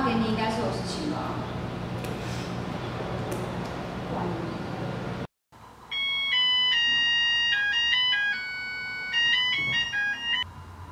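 A mobile phone ringtone for an incoming call plays loud and clear, a repeating melodic tune that starts after a noisy stretch of room sound and a brief drop to silence, then continues steadily.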